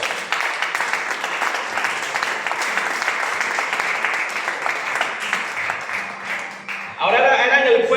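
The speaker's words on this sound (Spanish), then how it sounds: "Aplauda para Dios." Steady applause from a congregation at a church service fills the whole stretch, with a voice faintly underneath and a louder burst of cheering near the end.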